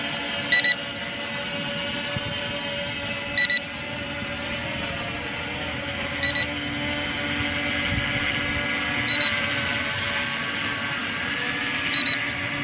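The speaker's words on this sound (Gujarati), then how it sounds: "દેખી શકો છો ડ્રોન આપણું ઉડવાનું સ્ટાર્ટ થઈ ગયું છે।" M3 Max toy drone flying, a steady high electric whine from its small propellers with short electronic beeps repeating every few seconds.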